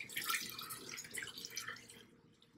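Tap water runs into a cooking pot for boiling pasta, a steady hissing splash that carries on for about two seconds and then cuts off, fairly quiet and with no talking.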